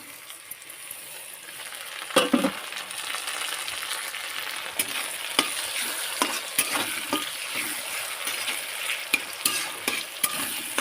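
Tomatoes fry in a pan for egg curry, a steady crackling sizzle broken by repeated sharp scrapes and knocks of a spoon stirring against the pan.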